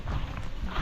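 Faint, soft hoof clops from a horse, a few irregular steps, heard at a distance under low background noise.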